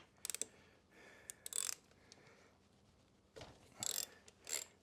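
A handheld ratchet clicks in short, sharp bursts while breaking a bolt loose on a Kawasaki Ninja 250's rear brake, several quick clusters of ratcheting separated by brief pauses, close and fairly loud.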